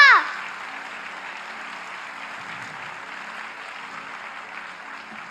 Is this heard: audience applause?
yes